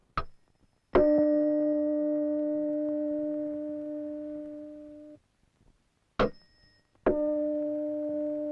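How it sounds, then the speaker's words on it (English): A tuning fork is struck twice, each strike giving a sharp ding that settles into a steady, pure sustained tone, the first ringing for about four seconds before cutting off, the second starting near the end; no talking. "The vibrating prongs give the air a succession of pushes."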